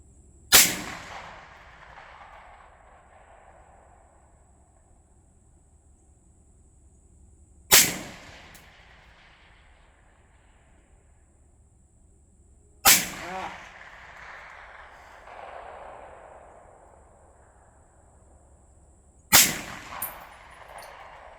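Four sharp, loud gunshots fired at targets in a shooting challenge, spaced several seconds apart, each with a long echoing tail fading outdoors, with faint background rumble between shots.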